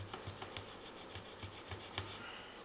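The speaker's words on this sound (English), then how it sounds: "So, it is a sponge and it's got the abrasion on there." Abrasive sponge scrubbed back and forth across the metal frets of a broken ukulele being repaired, a close, rhythmic rasping rub of steady strokes with no talking.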